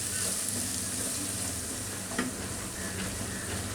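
Ground spices frying in a pan over a very low flame, stirred steadily with a continuous soft sizzle and occasional scraping knocks, close and alone.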